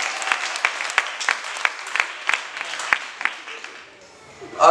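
A church congregation at a Pentecostal service gives moderate applause. Scattered hand claps pulse unevenly, then fade out near the end as a voice comes in.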